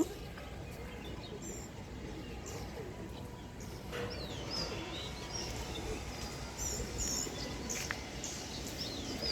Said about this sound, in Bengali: খুব সুন্দর পাখি ডাকতেছে